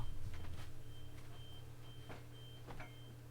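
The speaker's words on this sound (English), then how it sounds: "It's a blooming car alarm or something." A steady electronic beeping repeats at a regular pace in the background, alongside a low engine-like hum and a few soft knocks.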